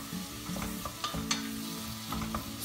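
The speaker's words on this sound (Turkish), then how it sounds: "Onun için şöyle önce bir kavuruyoruz." Thin-sliced mushrooms sauté in melted butter in a pan with a steady, soft sizzle. Faint scraping and stirring clicks come through now and then, with no talking.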